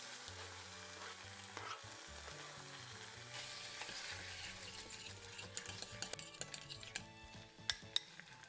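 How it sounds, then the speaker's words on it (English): Tomato paste, chili paste and soy sauce sizzle and fry in a pot for tomato miso ramen, a steady close hiss with occasional clinks and stirring scrapes. "Sweat some tomato paste, some chili paste and a little soy sauce for about 5 minutes."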